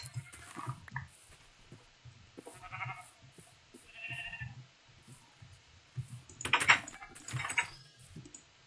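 Sheep in a video game give several short, soft bleats while the player feeds livestock, accompanied by scattered keyboard and mouse clicks.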